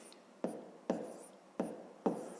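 Handwriting on paper while working a fifth-grade maths exercise, heard as four quick pen strokes in an even rhythm, each a short scratch that trails off, close and fairly quiet.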